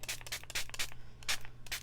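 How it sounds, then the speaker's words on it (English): Several quick bursts of water mist from a small spritz bottle onto a silicone craft mat, close and fairly soft, coming in a rapid irregular series of short hisses. "I just put some water in a little spritz bottle, and I'm just going to spray it"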